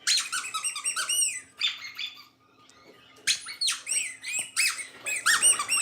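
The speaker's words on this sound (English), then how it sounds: "You hear him make the squeaky noise?" A dog chews on a lamb chop squeaky toy at an animal sanctuary, producing bursts of sharp, high rubbery squeaks in quick runs, with a brief lull in the middle, close and loud.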